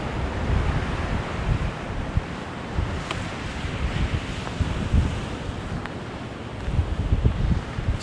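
Ocean surf washing against a rocky coastline, a steady broad roar of waves mixed with gusting wind buffeting the microphone, continuous and fairly loud with no voices.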